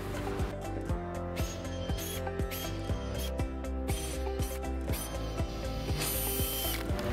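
A power drill driving 2.5-inch screws into wood for a farmhouse bench build, with repeated bursts of motor whine and clicking ratchet, close and loud, plus short pauses between runs.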